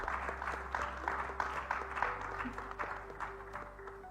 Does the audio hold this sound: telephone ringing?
no